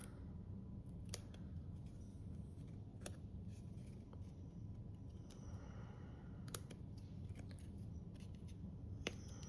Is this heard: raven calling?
no